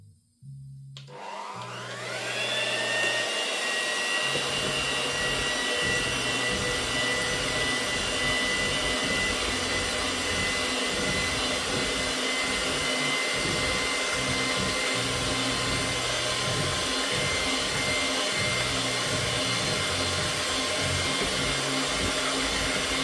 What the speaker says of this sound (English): Thank you, Mum, for the electric whisk.